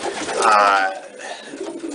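Pigeons coo nearby, one rounded throaty call swelling and fading, followed by softer rustling, with no speech.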